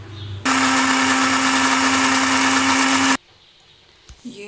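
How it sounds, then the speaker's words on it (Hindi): A kitchen grinder whirs loudly through fried tomato and onion masala for mutton karahi, a steady motor roar lasting under three seconds that stops abruptly, followed by quiet handling noises. "इस मसाले को निकाल के अब हम ग्राइंड कर लेंगे"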